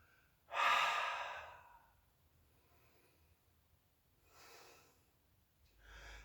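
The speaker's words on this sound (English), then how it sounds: "Inhale and exhale." One loud, close breath drawn in through the nose during a yoga session, slowly fading, followed by two softer breaths. No voices.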